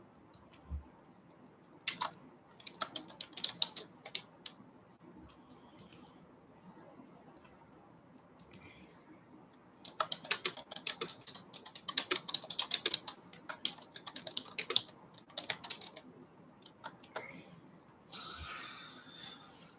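Someone types on a computer keyboard in irregular bursts of quick clicking keystrokes, with quiet pauses between, fairly close and moderately loud.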